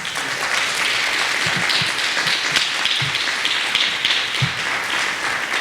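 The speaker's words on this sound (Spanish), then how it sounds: "les pido un aplauso" An audience at a Spanish-language talk event claps in a sustained, fairly loud burst of applause with scattered sharper claps, and no voices over it.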